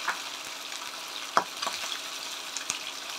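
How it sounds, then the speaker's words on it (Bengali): Rui fish fries lightly in a pan with a steady soft sizzle, broken by a few sharp spattering pops and crackles. "এটা একটু হালকা হালকা ভাজবো, কড়া করে ভাজবো না।"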